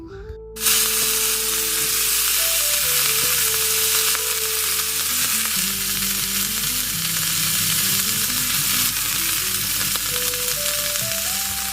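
Food cooks in a new wok with a loud, continuous close-up sizzle and hiss, while a soft melodic tune plays steadily underneath.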